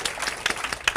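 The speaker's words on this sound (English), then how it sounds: "She gets a little round of applause." Brief, light applause from a panel audience at a women-in-technology discussion, scattered claps rising and falling close by over about a second, with no talk.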